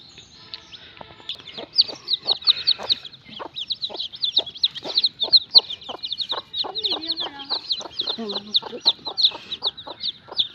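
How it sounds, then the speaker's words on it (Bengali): About 22 newly hatched native Bengali chicks peep in rapid, high, overlapping chirps, with lower clucks or a murmuring voice underneath. "আর এখানে 22টা মুরগির বাচ্চা ফুটছে"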